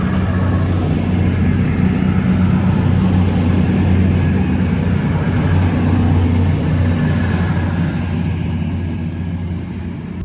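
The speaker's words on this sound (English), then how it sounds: "There's my train that I came on from Stafford." A passenger train departing a UK railway station after arriving from Stafford, a steady loud low rumble and engine drone that holds throughout and eases slightly toward the end, with no talk.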